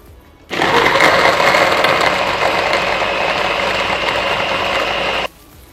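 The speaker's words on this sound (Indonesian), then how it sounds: "Sekarang akan kita blender." A kitchen blender mixes low-fat milk with other ingredients, its motor starting abruptly, whirring loudly and evenly for about five seconds, then cutting off sharply.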